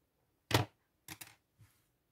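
Scissors snip through knitting yarn in three short, close cuts, a sharp first snip followed by two quicker, fainter ones, in a quiet room with no talking.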